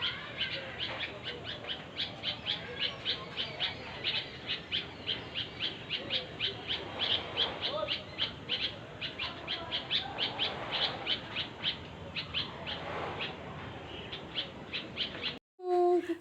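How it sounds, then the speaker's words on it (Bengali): Many birds call and chirp outdoors in a dense, continuous chorus of high repeated tweets, fairly close and steady, with no voices, until a brief cut near the end. "তো তার আগে তোমরা অল্প পাখির আওয়াজ শুনে নাও।"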